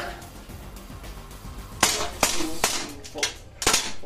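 A Lonex airsoft gas blowback rifle with steel internals fires about five sharp, cracking shots, close and spaced irregularly, over a low background hiss.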